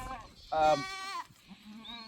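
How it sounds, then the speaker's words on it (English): Sheep bleating in the background at a boot camp training ground, one wavering bleat followed by a fainter second call, with a person speaking nearby. "in the background, there is also some sheep"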